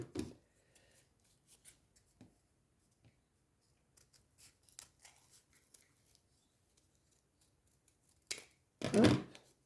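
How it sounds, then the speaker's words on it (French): Scissors snip paper around a cut-out flower for a paper rose craft, with sparse, quiet, close clicks spread out over time and a louder burst of cutting near the end. "Et on va couper aussi autour."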